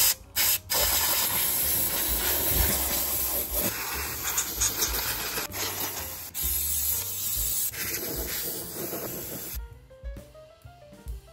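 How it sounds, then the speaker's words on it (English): Bursts of compressed air spraying computer parts in a long hissing stream with short breaks, close and loud, cutting off near the end. "let's give this a spray"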